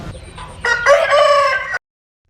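Several roosters crow at once on a village morning, a loud, close, overlapping cock-a-doodle-doo that swells midway and cuts off abruptly after under two seconds.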